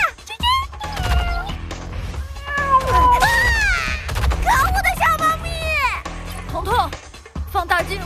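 A cartoon kitten meows repeatedly in high, bending cries amid animated dialogue and music, with a couple of crashing thumps between the calls.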